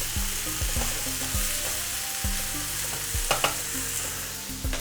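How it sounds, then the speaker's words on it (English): Beans stirred into a frying pan for Nicaraguan lomo pinchado make a low sizzle with repeated spoon knocks and scrapes against the pan, fairly quiet and close, with no talk. "I'm gonna add in my beans. Stir a little bit to incorporate."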